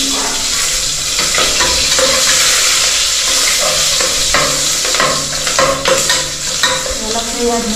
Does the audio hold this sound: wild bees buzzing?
no